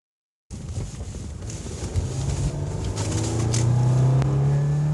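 A car engine revs smoothly, its tone rising steadily and growing louder over a few seconds, with some wind noise on the microphone.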